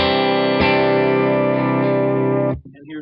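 Electric guitar played through a compressor pedal, a sustained, evenly squeezed chord ringing alone for about two and a half seconds, re-struck once early on, then cut off.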